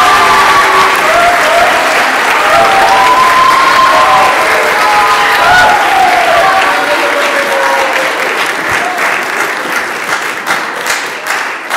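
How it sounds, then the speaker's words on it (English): Loud church audience applause and cheering for singers at a community song gathering, dense sustained clapping with whoops and hollers over it, tapering slightly toward the end. "Please give them a wonderful round of applause."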